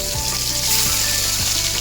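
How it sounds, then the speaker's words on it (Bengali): Katla fish fries in hot oil with a steady, loud sizzle and bubbling hiss, broken by a few low thumps, close up and with no speech. "কমপ্লেট মাছটা ভেজে নেব"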